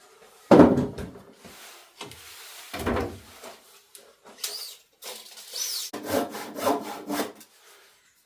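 A hand saw cuts wood during kitchen layout work, with uneven rasping strokes in short bursts separated by pauses and a few knocks and rubs, close by.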